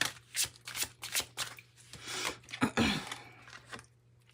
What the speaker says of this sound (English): Let's pull some in the shadows oracle cards for you.